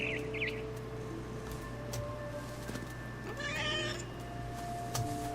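A cat meows in the game What Remains of Edith Finch, giving a couple of short high cries early on, with a brief louder burst in the middle over a steady low ambient hum.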